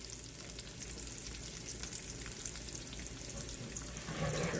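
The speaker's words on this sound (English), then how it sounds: "I'm going to go ahead and put the onions in." Chopped onions, celery and green pepper fry in a pan, making a soft, continuous sizzle that holds steady for several seconds.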